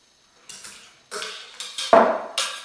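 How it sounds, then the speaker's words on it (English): Cooked meat and vegetables tossed into a metal pot, a series of five or six clattering, scraping clunks in quick succession, close and fairly loud, with no talking. "Just going to throw them in a pot."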